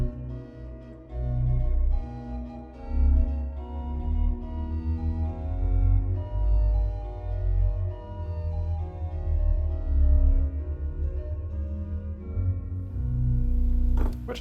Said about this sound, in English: There is a flute, which is called Bombarde.